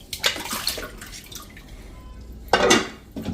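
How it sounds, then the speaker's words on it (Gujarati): A new clay pot is rinsed with water, with splashy pouring and sloshing bursts near the start and again at the end, a quieter gap of light drips and clinks between them, and no talking. "આ રીતે તમારે 2-3 પાણીએ સરસ ક્લીન કરી લેવાનું છે"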